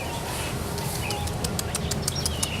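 Birds at a zoo give faint, high, thin chirps in a quick series over a steady wash of background noise from the busy outdoor enclosure area.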